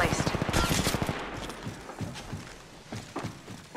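Rapid automatic gunfire in a video game, a fast rattling burst up front followed by scattered shots and game noise, with a voice speaking over part of it.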